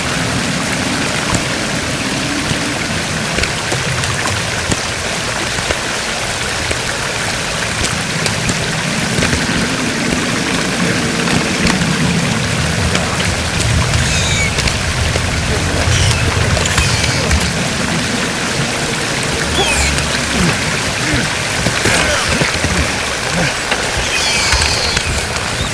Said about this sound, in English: There's water.